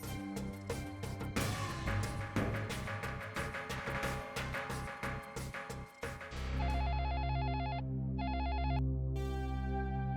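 A melodic electronic telephone ringtone plays steadily over music, its repeating tones continuing for several seconds with no voices present.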